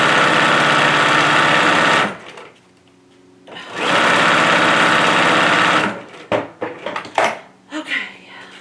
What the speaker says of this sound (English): I'm just basically just taking all the scraps of fabric that I have and just stitching them together